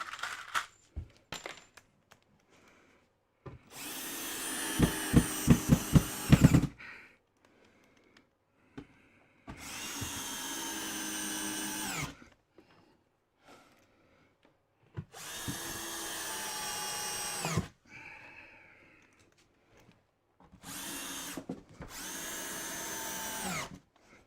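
A power drill drives screws into a timber cart in four bursts of loud, close whirring, each winding up and ending with a tightening grind, separated by quiet pauses and small clicks.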